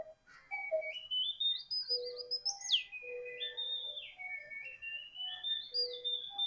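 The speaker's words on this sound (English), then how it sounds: "It's got the bellows that blow the air through the whistle." A German mechanical bird whistler from about 1850, its bellows pushing air through a whistle, sings a continuous warbling bird song of rising and falling chirps and trills, fairly close and alone for several seconds.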